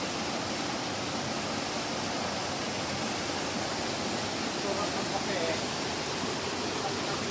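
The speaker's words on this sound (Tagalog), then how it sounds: "lakas po ng agos ng tubig" Strong rushing water at Limay Tikip Falls, a steady dense roar that fills the scene evenly from start to finish without a break, fairly distant and moderate in level.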